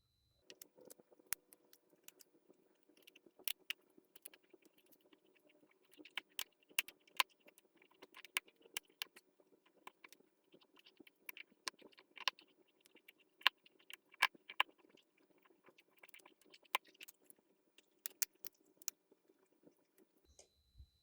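A plastic spiral notebook coil is handled and bent by hand, giving sparse, quiet clicks and light ticks scattered irregularly over near silence.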